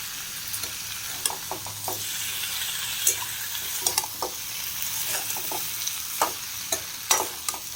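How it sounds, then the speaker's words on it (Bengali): Tomato and pointed gourd frying in a pan with a constant low sizzle, punctuated by sharp spatula scrapes and taps in an irregular rhythm, close and clear with no talking. "বেশি এটা ফ্রাই করবো না, একটু ফ্রাই করব। একটু টমেটো দিয়ে দিলাম হালকা করে।"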